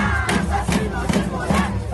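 Football fans of Operário protest outside the Dito Souza stadium during the team's state championship debut, a loud crowd rising in rhythmic shouted bursts of chanting at roughly even intervals.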